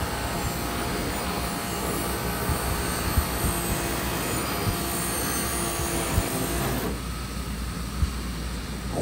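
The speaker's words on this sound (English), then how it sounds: "I'm gonna buff this thing up." Power tool buffing a custom exhaust pipe for a Honda-Subaru car, a loud continuous high-speed whine and grinding hiss held close for the whole stretch, with no talking.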